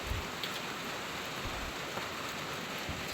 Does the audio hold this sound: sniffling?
no